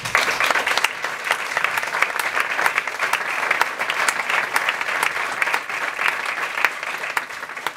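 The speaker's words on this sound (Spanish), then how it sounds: "con un aplauso de bienvenida y nuestro agradecimiento" Welcoming applause from an audience at a live hypnosis show, steady dense clapping from a sizable crowd sustained throughout, fairly close and even in loudness with no speech over it.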